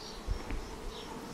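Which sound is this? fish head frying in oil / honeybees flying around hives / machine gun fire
honeybees flying around hives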